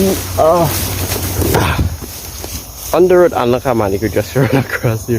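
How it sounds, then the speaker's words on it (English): A dog barks in short bursts around a rural yard in Trinidad and Tobago, mixed in with people talking nearby and steady insect buzzing. "No, that's a dog. Yeah, that's a dog."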